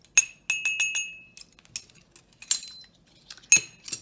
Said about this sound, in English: So I'm going to mix my oils up, make sure all the oils are mixed together.